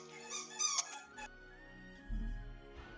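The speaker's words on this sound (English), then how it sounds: "get that squeaky joint looked at, mate. That sounds pretty bad" A squeaky joint lets out a few sharp, high squeaks and creaks, moderately loud and close, in a quiet room with faint background hum.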